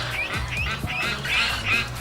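Pet geese honk in a quick series of nasal calls, fairly close and loud, with no talking over them.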